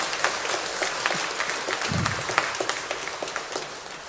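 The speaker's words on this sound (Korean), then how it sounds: "일단은 잘 갔다 오라고 박수 한번 하겠습니다" Congregation applauding during a Sunday church service, steady dense clapping from many hands that carries on throughout, moderately loud with a room echo.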